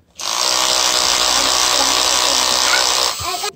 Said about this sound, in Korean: 네, 이렇게 드릴로다가